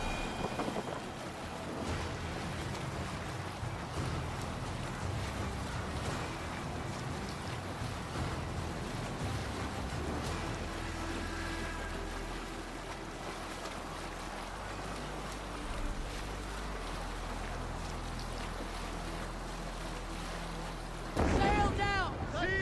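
Viking longship sailing on water in Assassin's Creed Valhalla, with continuous rushing water, wind and wave wash under occasional game voices, steady and moderately loud throughout.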